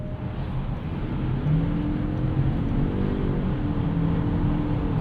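A 2025 Toyota Crown Signia with a CVT held at high revs near 6,000 RPM, a steady loud droning engine roar heard from inside the cabin, its pitch rising slightly and holding with no speech.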